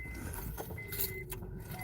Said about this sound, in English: Can you just use my keys for now?